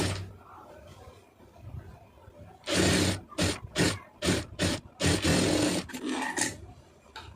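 Domestic sewing machine stitching a puff sleeve with lining, running in several short bursts of rapid mechanical whirring separated by brief pauses, close and fairly loud.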